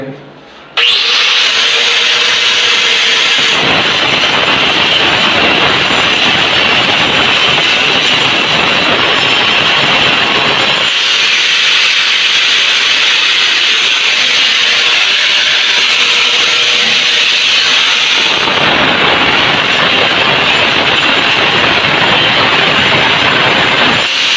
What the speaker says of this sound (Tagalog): tanggalin natin muna yung ano tiles niya so ayan padaanan lang natin ng grinder